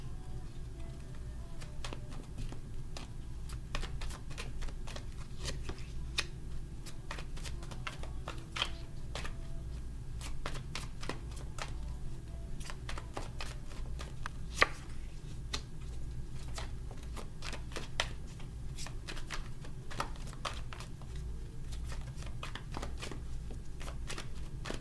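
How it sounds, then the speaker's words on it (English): A tarot card deck gets a quick shuffle close up, with dense, irregular crisp card snaps and slaps over a low steady room hum. The shuffling runs on steadily with no talk. "I do a quick shuffle on camera for everyone also."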